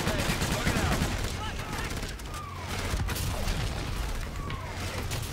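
Dense gunfire in the Call of Duty: Infinite Warfare shooter, a steady crackle of rapid shots and sharp cracks filling the whole stretch over a busy battle backdrop, with voices talking amid the fire.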